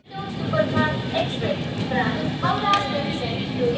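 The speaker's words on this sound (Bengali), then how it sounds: "বিফোর টাইমে আমাদের 12245 দুরন্ত এক্সপ্রেস আমাদের পৌঁছে দিল রেনিগুন্ডা জংশনে।" The 12245 Duronto Express pulling into Renigunta junction, a steady low rumble of a train moving slowly with faint wheel and brake tones, heard from on board under a continuous murmur of voices.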